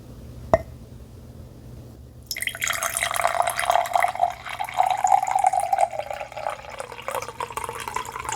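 Hot water pours from a pot into a teacup, a steady close trickle and splash that starts after a brief quiet moment with a single light clink and continues to the end.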